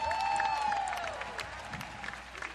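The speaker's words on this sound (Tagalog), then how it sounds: "Wala na talaga, mahina na ang palakpak." Weak applause from a church congregation at an El Shaddai gathering, a thin scattered clapping with crowd murmur beneath a fading sustained tone, fairly quiet and diffuse.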